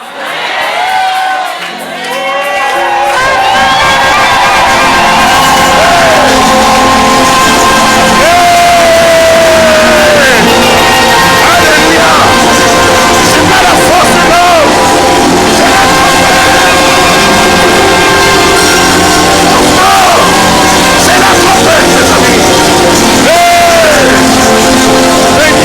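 Congregation at a French-language church service crying out and cheering together in a loud, sustained crowd roar that lasts throughout, with shouts and whoops rising over the mass of voices.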